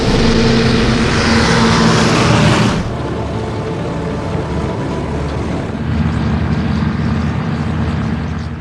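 C-47 Dakota transport plane propeller engines during the 1944 Normandy airborne drop, a loud, continuous droning roar that suddenly drops to a lower, steadier hum partway through.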